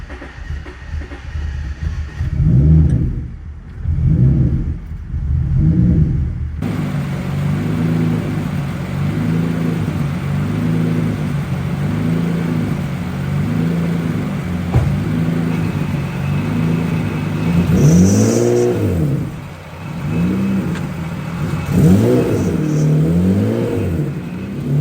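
Turbocharged V6 Honda Civic running an ethanol tune, its engine revving in repeated rising pulls with a steady loud drone between them, close and continuous with no talk.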